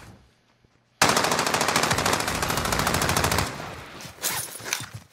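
Sustained machine gun fire in the Warzone video game, a rapid burst of closely spaced shots lasting a few seconds after a quiet start, then fading into scattered noise.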